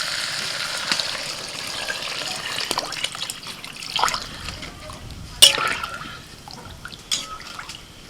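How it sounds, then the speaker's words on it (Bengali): Water is poured into a pot of rice for white egg polao, a soft splashing trickle with scattered drips that ends in a sharp louder splash near the middle and a smaller one toward the end. "এবার আমি জল দিয়ে দিচ্ছি"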